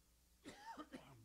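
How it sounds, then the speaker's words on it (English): A single person gives a short cough of two or three quick bursts, faint against a quiet room. "that's just a cough."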